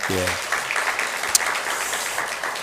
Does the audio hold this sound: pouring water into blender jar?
no